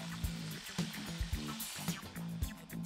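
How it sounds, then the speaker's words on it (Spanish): Water poured into a pot over rabbit stew pieces and sofrito, a close gurgling splash that comes in short uneven surges, without speech. "y lo cubrimos todo bien de agua."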